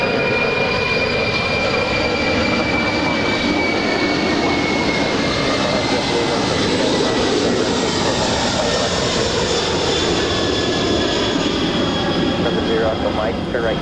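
An airplane at Los Angeles LAX airport gives off a loud, continuous jet roar with a high whine that slowly falls in pitch, filling the whole stretch.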